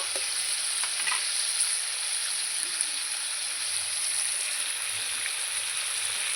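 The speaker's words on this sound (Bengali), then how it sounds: "তেলের সঙ্গে ভালো করে নাড়াচাড়া করে মাংসটা একটু আমি ভেজে নেব" Chunks of meat frying in hot oil while being stirred around the pan, a steady close sizzle and crackle with faint scraping throughout.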